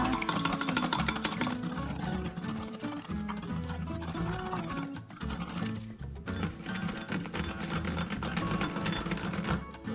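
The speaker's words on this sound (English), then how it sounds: "Hand mixer." A hand mixer whips egg whites for a souffle omelette, a continuous busy whirring drone with rattling beater clatter, steady and close throughout with no talk.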